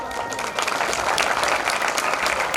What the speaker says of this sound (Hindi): तालियां ऐसी मरी हुई मत बजाओ